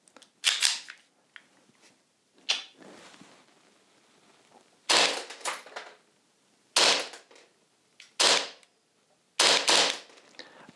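An EMG Staccato XL airsoft pistol gives a handful of sharp, dry snaps in uneven groups, some single and some in quick pairs, close and crisp with quiet gaps between.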